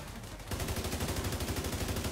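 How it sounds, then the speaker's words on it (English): Loud, sustained automatic gunfire in the video game The Division 2 during a raid, a rapid steady stream of shots after a brief lead-in, with no talking. "Right, start shooting."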